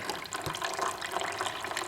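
Coolant drains from a 2015-2017 Yamaha YZF-R1 sport motorcycle into a drain pan, a steady hissing, splashing trickle of liquid that runs continuously and fairly softly with no voices.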